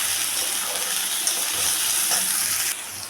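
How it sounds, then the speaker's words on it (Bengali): Spiced chicken with turmeric and salt fries in a pan for a sesame chicken dish, giving a steady, close crackling sizzle with brief stirring scrapes and no voices. "এখন আমি এটাকে ভালো করে ভেজে নেব।"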